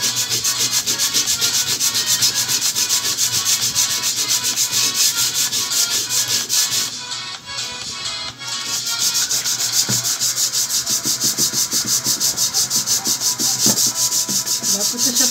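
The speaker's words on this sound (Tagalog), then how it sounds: "Yung paputi, papel de liha." Sandpaper rubbed hard and continuously across a surface to whiten it, a loud close scratchy hiss in steady back-and-forth strokes, pausing briefly midway before resuming.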